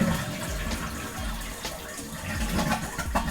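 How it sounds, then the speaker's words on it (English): A household toilet flushes and keeps draining with the handle held down while its supply line is shut off during a fill valve replacement, giving a steady close rush of water with gurgling swells. "Now flush the toilet and hold it down until everything drains out."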